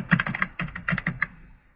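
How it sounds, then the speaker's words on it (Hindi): Keys clatter on a computer keyboard in quick, uneven bursts of taps while someone types into a PowerPoint 2007 slide, close and fairly quiet, with no voice over it. "अभी जैसे हम कुछ भी टाइप कर देंगे इसमें"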